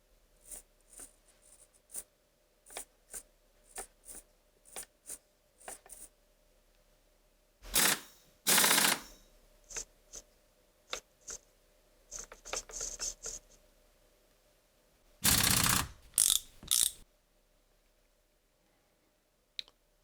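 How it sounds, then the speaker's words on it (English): Steering servos on an SCX24 Deadbolt RC crawler, the stock unit and a Reefs 99 micro, sweep back and forth. Close, sharp clicks and short whirring bursts come intermittently, with a few longer buzzing sweeps and no voices. "a little demonstration of the difference of the speed between the stock servo and the Reefs 99 micro."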